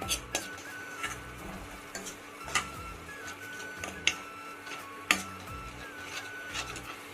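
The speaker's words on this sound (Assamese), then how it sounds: "আজি পানী দি গুলাই তাৰপিছত ভাজিম" Spice paste loosened with water fries in a pan for a masala cauliflower dish, a continuous low sizzle with regular spoon scrapes and clinks against the pan.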